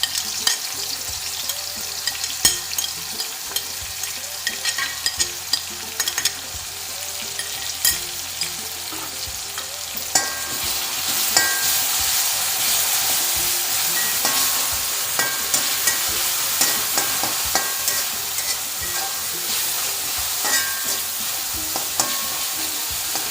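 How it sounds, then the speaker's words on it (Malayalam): Crushed onion, garlic, ginger and curry leaves sizzle steadily in hot coconut oil, a dense loud frying hiss broken by scattered crackles and occasional spoon stirs, with no talking. "വെളിച്ചെണ്ണ ഒന്ന് ചൂടായി വരുമ്പോൾ നമുക്ക് ഈ ചതച്ച് വെച്ചിരിക്കുന്ന ഉള്ളിയും വെളുത്തുള്ളി ഇഞ്ചി അതുപോലെ കറിവേപ്പിലയും ഇട്ടെടുക്കാം."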